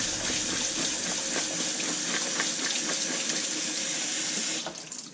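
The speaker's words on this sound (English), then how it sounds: "Turn on the cold water to stop the cooking." Steady rush of cold tap water pouring into a sink, loud and continuous, easing off at the very end.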